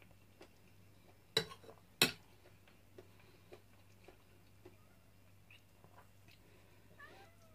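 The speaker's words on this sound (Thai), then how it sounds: "แมวนักเลงเหรอฮะ" A cat in a home kitchen gives a few faint meows near the end, amid soft ticking clicks and two sharper knocks in a quiet room.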